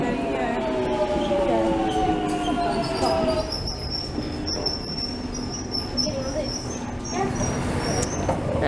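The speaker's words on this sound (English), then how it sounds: "here is the train" A London Underground Jubilee line train at Kilburn pulls through with rising wheel squeal and high whining tones over a rumbling platform, while people talk nearby.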